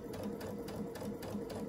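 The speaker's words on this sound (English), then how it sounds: "sew a few stitches forward, a few stitches backwards, and then come right to the edge" A sewing machine stitches a lined scrub cap in quick rhythmic bursts, running forward and back near the edge. The needle's rapid clatter comes close and steady under faint room noise, with no speech.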